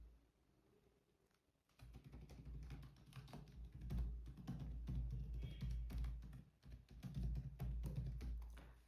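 Keys clatter on a computer keyboard in quick, irregular bursts of close, soft tapping while details are entered into an online passport application form, after a brief quiet start.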